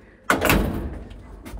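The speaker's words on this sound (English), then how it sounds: "I'm gonna show you guys the elevator. Vintage style. Close the door." A vintage-style elevator door is pulled shut with one sharp close thud followed by a fading rattle, then a faint second knock near the end.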